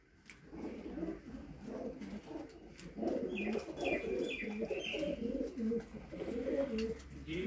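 A flock of pigeons coos and chirps on a loft, the soft overlapping calls rising and falling throughout, close and moderately loud, with faint background voices.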